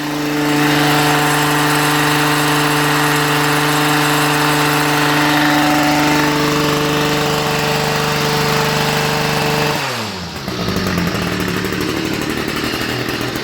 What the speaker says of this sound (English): Once you release that handle from the start position, it idles right down and it doesn't move.